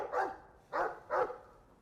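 A dog barks three times in a Dragon Age 2 video game scene, with a single bark followed by a quick pair of close, moderately loud barks and no talk over them.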